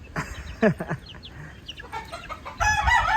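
A broodstag rooster clucks and crows close by in a grassy yard, in short repeated calls that end in a louder, fuller outburst. Faint background noise runs beneath the calls.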